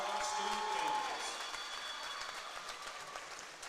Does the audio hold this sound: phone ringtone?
no